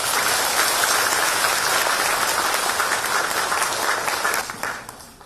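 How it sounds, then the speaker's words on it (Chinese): A lecture audience at a university in Guangxi applauding to welcome a speaker, dense sustained clapping from a large crowd that fades out near the end. "接下来就让我们以最热烈的掌声欢迎索达吉堪布为我们"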